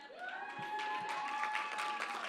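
Quiet clapping from a crowd at a student awards celebration runs steadily throughout, overlaid by a sustained tonal hum or feedback-like whine.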